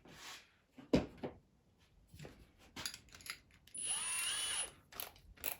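Square-drive screws are driven into a wooden chair mock-up, with a short whirring burst from a power driver after scattered clicks and knocks of parts being handled, all fairly quiet.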